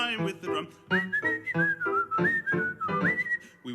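Someone whistles a melody within a sung opera-house tune, clear and close, with a run of short rising and sliding notes over a pulsing vocal and instrumental backing.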